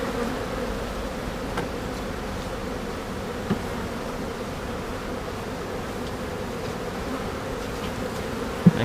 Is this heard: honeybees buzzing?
yes